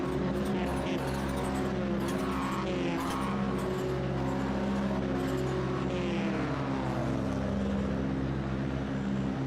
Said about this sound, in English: It's a long hold, waiting for the revs to build up, launch control, ready to launch these machines down into the final corner.